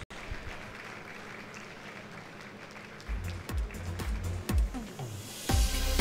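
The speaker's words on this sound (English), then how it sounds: "A round of applause." Audience applause breaks out at the Future Awards Africa 2018 ceremony, faint at first and then building into scattered, moderately loud clapping in a large hall.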